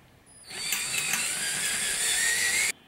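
A power drill whines continuously at high pitch for about two seconds, starting abruptly and cutting off sharply, close and fairly loud.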